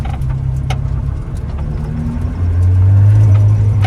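A Ferrari Challenge race car engine drones steadily from inside while driving, a loud, shaky low rumble that swells into a deeper, stronger hum toward the end.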